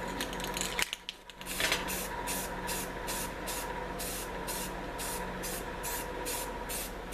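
Aerosol spray paint in industrial gray hisses onto a metal forge stand in short, repeated bursts, close and steady with brief pauses between passes and no one talking.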